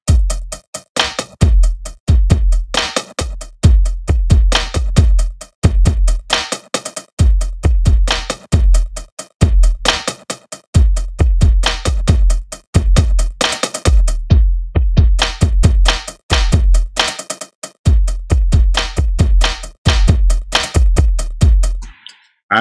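Drum pattern soloed from SampleTank 3 running inside MPC Live 2.1 software: punchy kick and snare hits with steady hi-hats in a loud, repeating groove, with a brief break midway.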